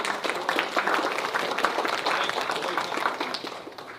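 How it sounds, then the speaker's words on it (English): A round of applause in a Niceville city council meeting room, steady clapping from the audience that gradually fades out over about four seconds. "That deserves a round of applause."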